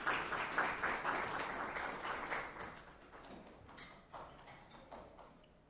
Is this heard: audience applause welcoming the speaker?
yes